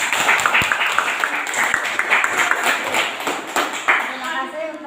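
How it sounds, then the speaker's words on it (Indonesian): A group clapping hands together at a classroom coaching session, brisk overlapping claps throughout with voices talking over them. "Tepuk tangan karena"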